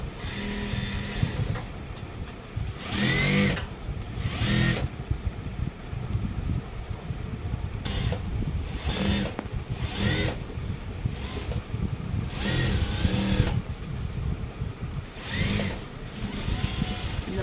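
A sewing machine stitches a tuck into a silk skirt, running in repeated bursts of steady mechanical whirring with brief pauses between runs, close and fairly loud.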